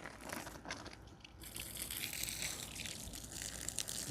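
Water gushes out of a hose fed through a water deionizer, a steady close splashing and rushing flow with crunchy, crackling texture and no voices.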